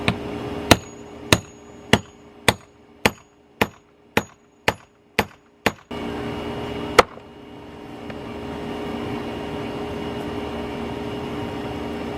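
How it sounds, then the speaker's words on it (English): Nine sharp, evenly spaced hammer taps on bolts going into a wooden deck ledger board ring out close by, followed by a low mechanical hum and one final knock. "I'm just gonna tap them in with the hammer at first"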